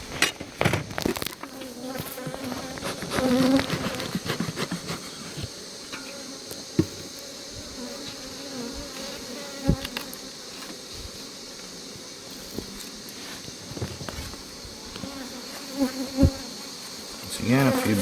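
Honey bees buzzing steadily at close range during a beehive inspection, a continuous droning hum with occasional louder passes and soft knocks and handling noises from the hive.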